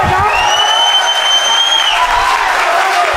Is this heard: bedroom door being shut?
no